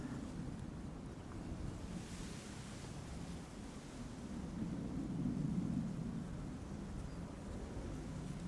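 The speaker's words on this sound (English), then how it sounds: "The wind is blowing from west to east." Steady wind blows outdoors at Amsterdam Schiphol Airport, a continuous low rumble with gusty microphone buffeting that swells briefly midway, with no talking.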